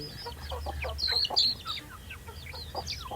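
Free-range village hens and their many chicks cluck and peep in a steady scattered chatter, soft and moderately distant with no talk.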